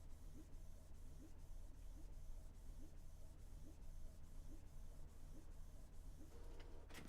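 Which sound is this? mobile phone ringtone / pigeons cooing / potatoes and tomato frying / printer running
printer running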